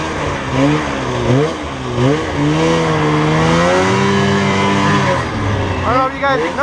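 A Ski-Doo Formula Z 583 snowmobile engine runs close by, its two-stroke note rising and falling in smooth, wavering revs before a quick burst of higher-pitched throttle blips at the end.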